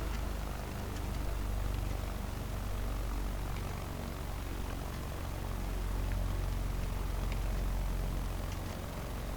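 A propeller airplane taxiing in Flight Simulator 2024 gives a steady, droning engine and propeller rumble that holds at an even level throughout, with no voices.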